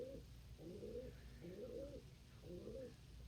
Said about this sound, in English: There is a coo back there.